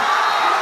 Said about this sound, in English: the crowd was going absolutely ballistic